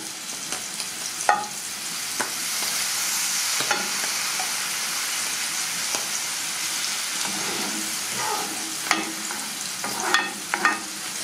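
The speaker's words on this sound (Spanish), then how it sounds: "Y voy a echar caldo de pescado." Flour and fish broth are stirred in a hot, sizzling pan for a sauce of prawns and mushrooms. The frying sizzle runs steady throughout, and close, irregular scrapes and clicks of the spoon against the pan are mixed in.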